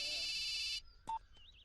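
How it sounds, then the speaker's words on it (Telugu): Phone ringing in a Telugu comedy film scene: a short electronic ringtone burst that cuts off abruptly, followed by faint beeps and tones. "జఫాబాయ్ ఫోన్"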